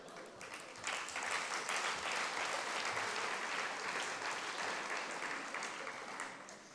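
Sustained audience applause fills an awards ceremony hall, a dense, steady clapping from a large crowd that swells in and holds at an even level for several seconds with no voices on top.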